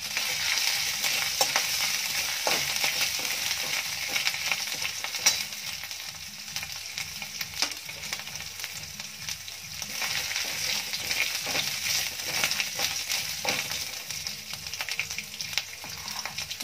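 Chopped ginger and green chillies fry in a pan with a continuous, close sizzle and crackle, while a utensil periodically scrapes and stirs through them.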